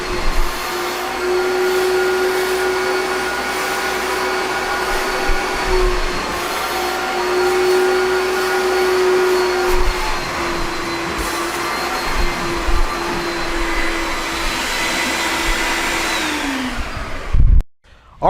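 A carpet extractor pulls spotting solution back out of carpet after a Kool-Aid or fruit-drink stain treatment, giving a loud, steady suction whine with a humming motor tone. It runs unbroken for about seventeen seconds, then cuts off abruptly.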